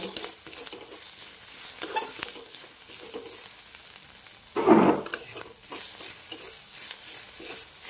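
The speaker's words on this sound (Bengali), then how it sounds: "এবার একটু নাড়িয়ে চাড়িয়ে নেব, আর ফ্লেমটা লোতেই রাখবো।" Ginger-garlic paste fries on a low flame while being stirred in a pan, giving a gentle steady sizzle with intermittent scraping of the spatula and one louder clatter midway.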